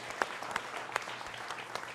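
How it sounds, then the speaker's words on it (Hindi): A studio audience claps in a soft, scattered burst, faint and brief with a few sharper individual claps standing out. "जनता जनार्दन आपका जोरदार तालियों के साथ अभिनंदन है"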